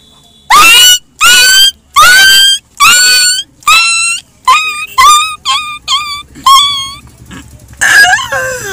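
A man vocally imitates a dying dog's whimper, with a series of loud, sharp, high-pitched yelps that become shorter, wavering whines and end in a drawn-out moan, close to the microphone and with no other talk.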